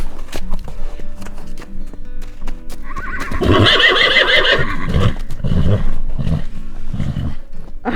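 A horse lets out a loud, close whinny that rises and trembles for a couple of seconds. Hoof clops and thumps come before it and snorting sounds follow.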